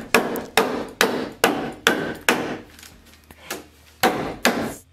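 A hammer tacker driving roofing staples, about nine sharp, evenly spaced strikes close by, with a brief lighter pause partway through.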